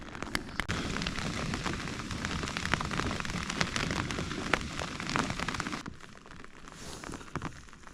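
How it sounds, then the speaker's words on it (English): Heavy rain drums on a tent, a dense, close, continuous patter with scattered louder drops, easing slightly toward the end. "it's lovely lying here listening to the rain"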